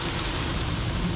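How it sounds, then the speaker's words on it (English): Rain falls in a steady, dense hiss with a low rumble underneath, continuous and fairly loud throughout. "It's raining."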